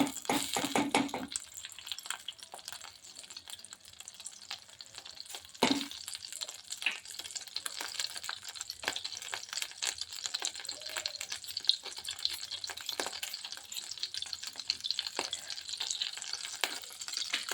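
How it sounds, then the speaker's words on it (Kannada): Butter melts in a kadai on a gas stove as the base for restaurant-style tomato soup, giving a steady soft sizzle and crackle throughout, with a couple of sharper knocks near the start and around the middle. "ಗ್ಯಾಸ್ ಒಲೆ ಮೇಲೆ ನಾನು ಕಡಾಯಿ ಇಟ್ಟಿದ್ದೇನೆ ನೋಡಿರಿ ಈಗ ಒಂದು ಸ್ಪೂನ್ ಇದರಲ್ಲಿ ಬೆಣ್ಣೆ ಹಾಕ್ತೀನಿ"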